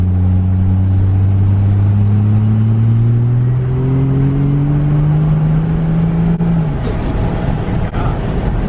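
A diesel pickup truck accelerating on the road, heard from inside the cab: a loud, deep engine rumble with rising tones that climb steadily, a shift near the end, then continued driving drone.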